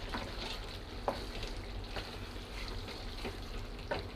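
Beef curry, Bangladeshi-style kosha mangsho, fries and gets stirred in a pan: a soft, steady sizzle with a few faint scrapes of the spoon, fairly quiet and with no talking.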